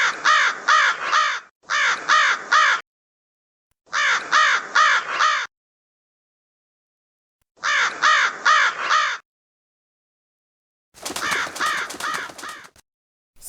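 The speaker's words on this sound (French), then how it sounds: "un corbeau croassa" A crow caws in four separate bursts of three to four harsh calls each, loud and close against silence, followed by a rougher, noisier flurry of calls near the end.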